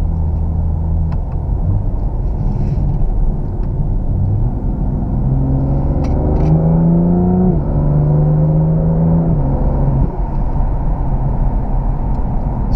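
A 2018 BMW M2 Coupe in sport mode growls loudly from inside the cabin, its engine tone rising and falling steadily through gear changes over a constant low road rumble.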